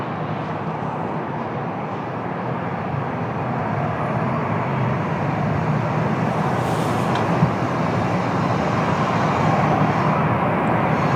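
A Ryanair jet lands at Lisbon Airport on a windy day, a broad steady engine roar that swells gradually and holds loud throughout, with no voices.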